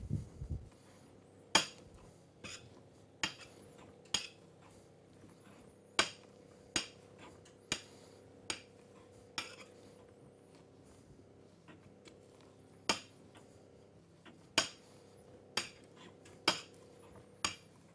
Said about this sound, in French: on prend le pilon, on prend tous les éléments et puis on appuie dessus comme ceci. On broie l'ensemble